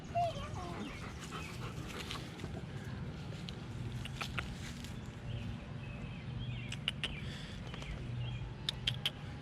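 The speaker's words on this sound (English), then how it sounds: "Don't ask me what's wrong with these dogs." Dogs whimper and yelp in short, high bursts over a low steady rumble, with a person talking nearby and scattered sharp sounds toward the end.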